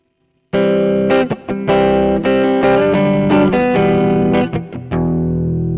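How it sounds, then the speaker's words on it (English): An electric guitar played through heavy distortion at a live evening show, with loud sustained chords and short breaks between them and a ringing tail at the end. No voices can be heard over it. "Turn that distortion down just a little bit."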